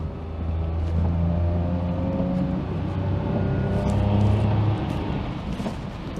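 A Daihatsu Sirion engine labours up a steep hill, a steady droning hum with shifting tones that rises gently and then eases, heard from inside the car with no talking.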